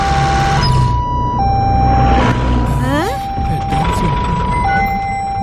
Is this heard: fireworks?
no